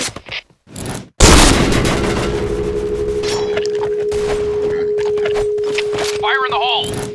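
A grenade explodes in the shooter game Insurgency: Sandstorm, a sudden loud boom after short silences, followed by a long ringing tone and lingering scraping debris, with gunfire and voices nearby.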